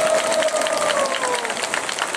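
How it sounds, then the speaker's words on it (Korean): Crowd applause at an outdoor conservative political rally, a dense wash of clapping with some cheering, while an amplified voice trails off over it early on. "여러분 다시 한번 뜨거운 박수를 부탁드리겠습니다"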